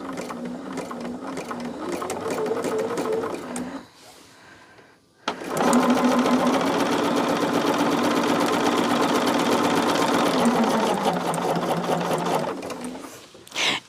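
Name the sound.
sewing machine stitching charm square quilt pieces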